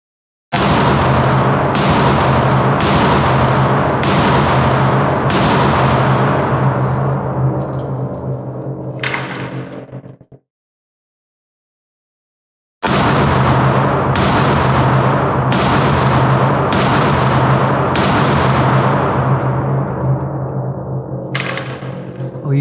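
A Heritage Roscoe revolver fires in two sharp, loud strings of shots, roughly one every second, each ringing out at a range, with a short silent pause between the strings.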